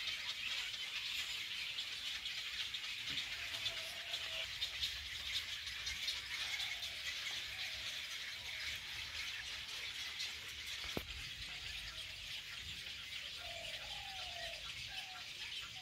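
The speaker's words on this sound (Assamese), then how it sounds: "এইটো পানী কাউৰী বাৰে বা বহুত আছে" Colony of water birds, cormorants and egrets, in a village area of Nalbari district, with scattered croaking and squawking calls over a dense, steady wash of insects and background noise.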